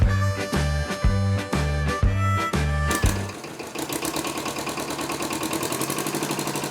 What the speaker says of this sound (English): I put this 10 horsepower Thermo King motor in it